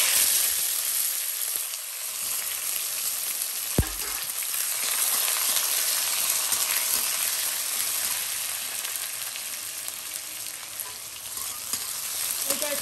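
Raw onion sizzles steadily in a hot pan for mutton curry, a dense broadband frying hiss lasting throughout with one brief clink near the start, no voices.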